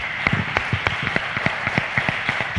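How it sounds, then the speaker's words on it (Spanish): A crowd at a mares' show event in Spain claps after thanks to the crew, with loud individual hand claps standing out over a continuous background of applause. "Un fuerte aplauso."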